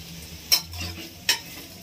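Chicken fries in a pan with a quiet, continuous sizzle, broken by two brief metallic scrapes of stirring.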